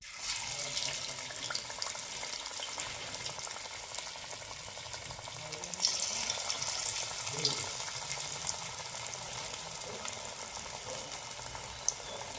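Batter-coated fragrant leaf pakoras frying in hot oil, a steady close, bubbling hiss throughout with faint clicks and small splashes, no voice.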